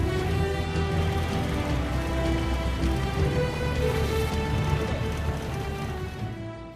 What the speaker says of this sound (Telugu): కుండపోతగా వర్షం కురేయడంతో రోడ్లన్నీ జలమయమయ్యాయి